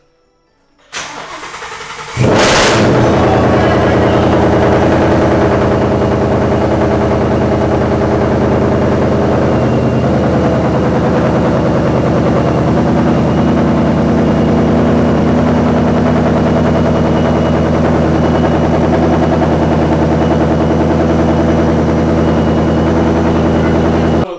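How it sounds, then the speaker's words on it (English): A supercharged ESS Ford Mustang cranks for a moment, catches with a loud bark, then settles into a steady, deep, close idle that fills the rest of the time with no talk. "Clutch it all the way and press the start button."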